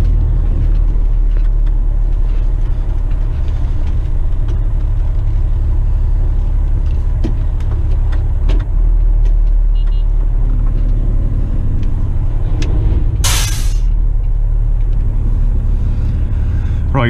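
Western Star dump truck, empty, crawling over rocks on a construction site, with a loud steady engine rumble heard from inside the cab and a brief hiss of air near the end.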